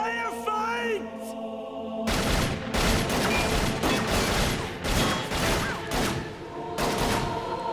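Rapid bursts of gunfire at a shooting competition, loud and close, with repeated volleys of shots after a short stretch of other sound at the start.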